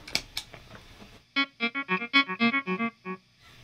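An electric guitar plays a passage with delay: a run of a dozen or so quick, evenly spaced clean notes, preceded by a few soft muted taps.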